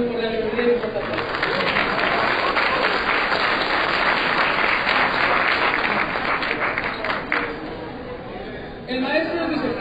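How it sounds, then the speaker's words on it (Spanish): A conference audience in higher education gives sustained, full applause to welcome a speaker, with the clapping swelling and then fading, and a voice speaking near the end. "les pido que demos una muy cordial bienvenida y un aplauso"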